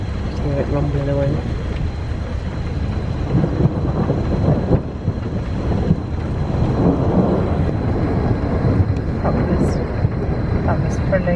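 Thunder rumbles on and on through a storm, a continuous heavy low roar with rising swells around the middle and later on, while people talk over it.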